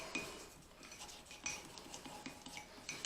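Spoon scraping and clinking against a mug while stirring cocoa powder and espresso into a smooth paste for hot chocolate, quiet intermittent scrapes with small metallic taps.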